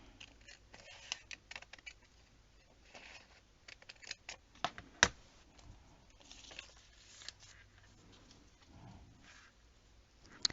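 Scissors cutting a paper page at a quiet crafting table, making faint, irregular snips and crisp clicks with near-silence between them.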